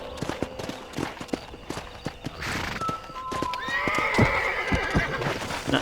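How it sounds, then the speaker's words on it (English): In Red Dead Redemption, a horse's hooves clop in an uneven rhythm, and then the horse lets out a loud, close whinny near the end. "Damn it, horse."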